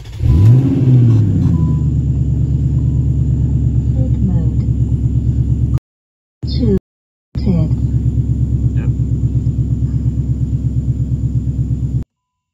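A car on a test drive after a repair, its steady low engine rumble running throughout with a brief drop-out mid-clip and a swell of revving near the start; braking is not distinctly audible, and someone speaks over the engine.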